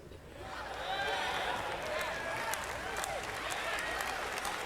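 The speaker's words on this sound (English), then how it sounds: "Clap for our mistakes." A large audience claps steadily, a dense wash of applause that swells in and carries on with a faint voice underneath.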